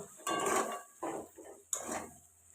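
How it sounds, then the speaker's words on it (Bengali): Water being poured into a pot of sweet-sour amra (hog plum) chutney mixed with sugar: three short splashing gushes, close, with a clink of the pot, and no talking. "এবার এর মধ্যে দিয়ে দেবো জল"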